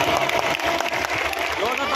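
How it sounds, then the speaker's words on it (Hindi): Audience applause at a Khatu Shyam jagran, a dense, continuous clapping from a crowd, loud and close, with some cheering mixed in. "ताली बजाओ जोरदार।"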